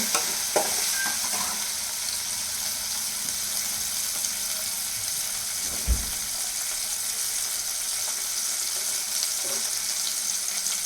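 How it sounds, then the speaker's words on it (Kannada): Bombay bonda deep-frying in oil gives a dense, even hiss that runs through the whole stretch, with a soft thump and a few faint clicks mixed into it. "ಕ್ಲೀನಾಗಿ ಫ್ರೈ ಆಗ್ತಾ ಇದೆ ಒಂದು ಕಡೆಯಿಂದ ಚೆನ್ನಾಗಿ ಫ್ರೈ ಆಗಿದೆ"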